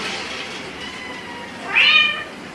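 A pet cat lets out a single clear, rising meow near the microphone, preceded by a faint, drawn-out mewing tone.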